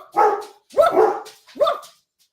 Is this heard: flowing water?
no